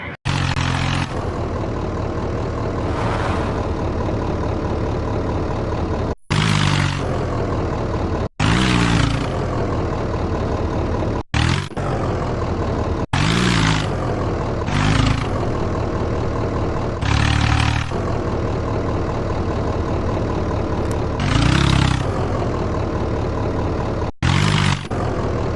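Tractor engines in an Indian farming simulator game rumble steadily while a tractor is loaded onto a trolley, with repeated revving bursts and brief cutoffs over about 25 seconds, no speech.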